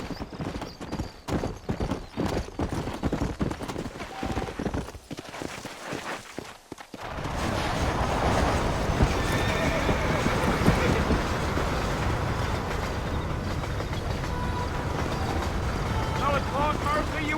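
Horse hooves clip-clop along in the Red Dead Redemption video game, a steady rhythmic trot that gives way to a dense rumbling gallop with rolling wheels, with people talking over it.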